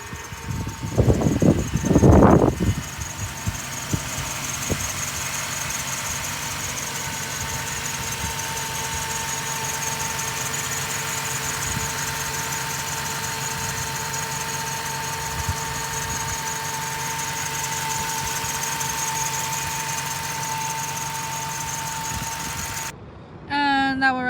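A 2019 Ford Transit 150 medium-roof cargo van's 3.7-liter V6 idling, a steady low hum after a brief burst of louder noise at the start, running evenly throughout.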